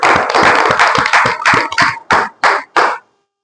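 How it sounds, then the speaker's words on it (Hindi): An audience claps for a product launch at a business meeting, a dense round of applause that thins into a few separate loud claps before stopping abruptly. "उसके लिए एक बार जबरदस्त तालियां हो जाएं।"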